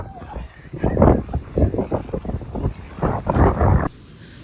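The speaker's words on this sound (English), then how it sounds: "It's so windy." Strong wind gusts across a beach, roaring and buffeting the microphone in uneven surges before cutting off abruptly near the end.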